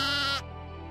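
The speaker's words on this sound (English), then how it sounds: "A lamb says," A single lamb bleat, a short bright nasal baa that cuts off abruptly partway through, close and clear with a quiet hum underneath.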